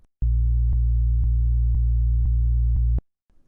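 Sub bass synth note, a pure low sine tone in a track mix, held for under three seconds with clicky rhythmic pulses, then abruptly cut off, loud and alone.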